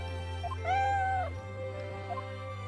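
A cat named Eve in the video game Professor Layton vs. Phoenix Wright gives one clear, rising-and-falling meow over a low background hum, followed by a fainter chirp.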